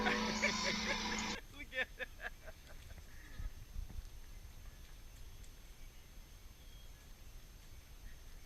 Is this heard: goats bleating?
yes